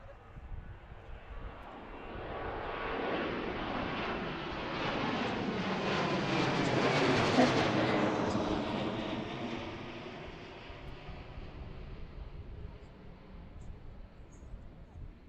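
A jet airliner at Washington Reagan National Airport swells from a distant whine to a loud close roar at mid-clip, then fades away as it passes.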